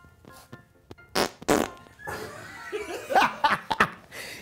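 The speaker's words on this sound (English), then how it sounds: "I've got to fart really bad" A fart sounds close to the mic, a short loud burst followed by laughter and giggling from people nearby.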